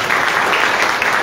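A Spanish-language Guaraní language and culture lecture audience applauds loudly and densely in a brief close burst, a continuous roar of many hands clapping together.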